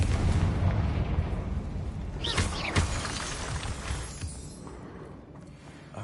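A Confringo explosion spell bursts in the video game Hogwarts Legacy: a loud blast with crackling, shattering debris that trails off into a lower rumble.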